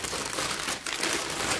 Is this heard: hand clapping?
no